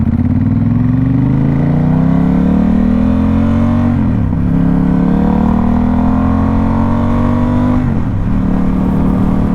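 Steady loud engine roar from a Ducati Diavel 1260 S motorcycle on a morning road ride, rising in pitch through the gears with brief dips at each shift, with wind noise throughout.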